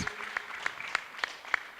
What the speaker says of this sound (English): Please clap for them before I even mention what they did.